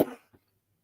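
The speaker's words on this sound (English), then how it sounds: "here comes the first cough" A single loud, close cough bursts out at the start, followed by a brief faint second cough, then near silence.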